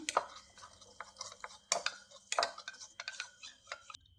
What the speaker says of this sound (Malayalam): കുറച്ചുകൂടി പാലൊഴിച്ചു കൊടുക്കാം ഇത് കട്ട കെട്ടാതെ മിക്സ് ചെയ്തെടുക്കാം